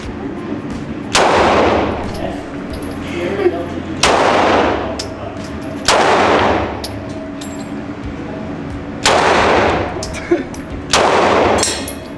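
Repeated loud gunshots in a shooting game, five sharp blasts spaced roughly two seconds apart, each trailing into a long decaying echo over a low steady background rumble.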